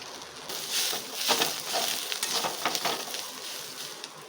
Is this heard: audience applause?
no